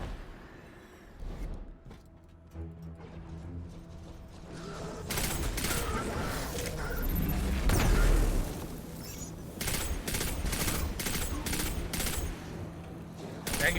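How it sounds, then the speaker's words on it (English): Gunfire in the video game Destiny 2 builds from scattered shots into dense, loud rapid bursts and booms, with mechanical clicks and creaks between volleys. "gunfire now is enough to punch through their shields"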